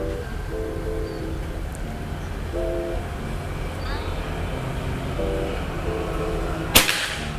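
A single sharp, loud crack from a Predator OD 38 PCP air rifle sounds near the end, over a steady background hum with faint repeating horn-like tones.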